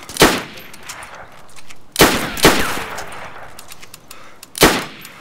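Gunfire in the survival video game DayZ during a dock fight: three sharp, loud shots spaced about two seconds apart, each with a short ringing tail over a low background hum.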